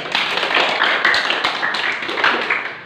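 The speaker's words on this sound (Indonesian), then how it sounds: "Tepuk tangan dulu." A classroom of students claps together after a teacher's cue, a dense, steady patter of many hands lasting about three seconds before tapering off at the end.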